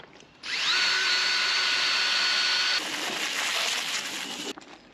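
A power drill whirs at high speed for a few seconds, its pitch shifting partway as it churns through a thick mix containing PVA, then stops.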